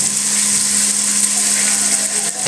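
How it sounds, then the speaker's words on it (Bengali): Onions and chilies sizzling in hot oil in a pan, a steady broadband fry hiss with a low hum beneath, close and continuous without break. "নেড়ে ভালোভাবে পেঁয়াজ মরিচটাকে ভেজে নেব"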